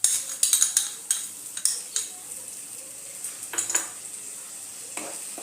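A metal spoon scrapes and clinks against a pan as sour yogurt is stirred into a spice paste for dahi potol, with several sharp taps early and later and a faint sizzle beneath.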